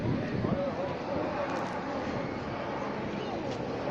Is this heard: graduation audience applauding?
no